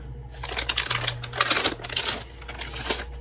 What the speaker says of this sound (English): you open the heat pack